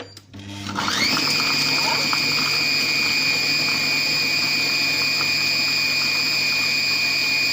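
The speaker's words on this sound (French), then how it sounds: "Alors, je vais mettre le programme haché. 10 secondes, puissance 6." A Compact Cook Pro food processor running its chop program at power 6, starting with a rising whir and then holding a loud, steady high-pitched motor whine.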